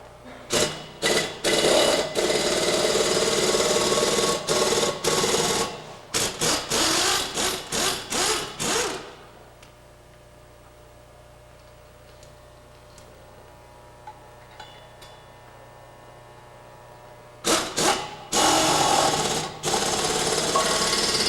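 An impact wrench runs a bolt in to pull a Cornell pump impeller onto its shaft, firing in loud rapid bursts, then a long stretch of quiet hum before the chattering bursts return.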